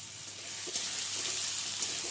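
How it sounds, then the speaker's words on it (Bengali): Potato and papaya chunks fry in oil over a high flame, a steady close bright sizzle running throughout with faint stirring scrapes and no voices. "আলু পেঁপেটা দিয়ে হাই ফ্লেমে একটু ভেজে নেব"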